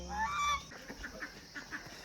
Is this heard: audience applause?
no